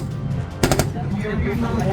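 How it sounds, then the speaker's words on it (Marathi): A quick burst of gunfire during an army war-exercise demonstration at a firing range cracks out sharply, a few rapid shots under a continuous narrating voice. "गोळीबार"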